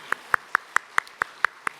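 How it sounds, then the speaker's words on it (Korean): A church congregation gives applause during a worship service: eight crisp, evenly spaced claps in unison, moderately loud and steady, with no talk over them. "우리 주님께 영광의 박수 올려드리겠습니다"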